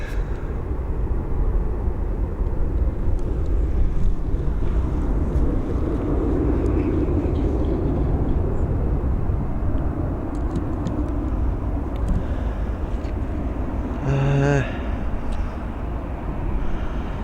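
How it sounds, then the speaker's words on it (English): An Airbus A320 takes off from Dublin Airport as a continuous, fairly loud jet roar that stays steady and broad for the whole stretch, heard from a distance. "There we go, she is up"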